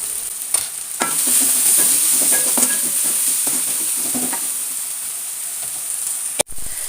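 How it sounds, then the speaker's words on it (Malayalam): Chopped tomato sautés in a pan for a spinach dal curry, with a steady bright sizzle and repeated stirring scrapes and clinks throughout, close and fairly loud, ending in a brief sharp knock. "ഒരു തക്കാളി അരിഞ്ഞത് കൂടി ഇട്ട് കൊടുക്കുന്നുണ്ട്. ആ തക്കാളി ഒന്ന് വേവുന്നത് വരെ വാട്ടിയെടുക്കാം."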